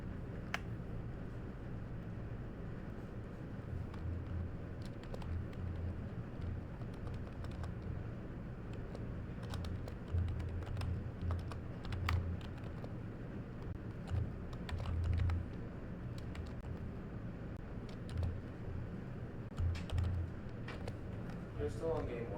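Slow typing on a computer keyboard at a vintage open tournament venue. Faint, irregular key clicks sound over a low, steady room hum, with quiet voices in the background.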